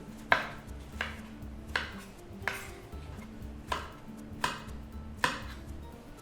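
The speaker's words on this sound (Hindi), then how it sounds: "ये 1/2 करके इसको थोड़े मोटे मोटे पीसेस में काट लेते हैं" A knife chops a ridge gourd (turai) into thick pieces on a board, about seven sharp, evenly spaced cuts in close-up against a low kitchen hum.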